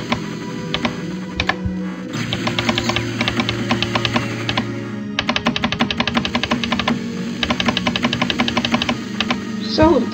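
Rapid, loud computer mouse clicking comes in dense bursts over a steady machine hum, fast repeated clicks near the microphone that pause briefly and then resume.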